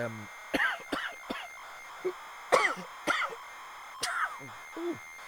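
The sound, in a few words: cough or sneeze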